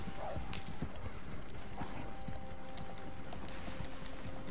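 Horse hooves clip-clop steadily in Red Dead Online as two horses, one black, trot along, a loud continuous rhythmic patter with faint mechanical creaks beneath.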